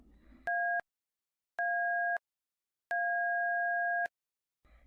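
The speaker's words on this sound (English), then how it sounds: "The alert tones were right on cue." Fire station dispatch alert tones sound as three clean two-pitch electronic blasts, short, short, then longer, separated by silence, with faint background noise at the start and end.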